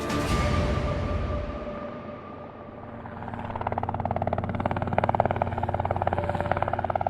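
A helicopter's rotor thumps and engine drone rise in the distance and grow steadily louder, with no voices.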